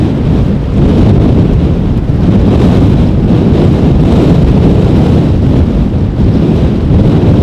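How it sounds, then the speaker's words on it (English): Loud, blustery storm wind buffeting a microphone at Amsterdam airport, a continuous low rumbling roar with no voices. "Was a gust of wind"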